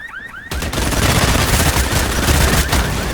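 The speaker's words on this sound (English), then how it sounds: "We down the first guy with a barrage of bullets" A dense gunfire barrage in the video game Bloodhunt, a loud continuous fusillade of rapid shots that starts abruptly after half a second and continues to the end, following a few short rising electronic chirps.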